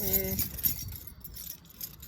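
Keys jangle close by while someone searches for them, giving a few light metallic clinks over a brief murmur of speech at the start and faint background noise.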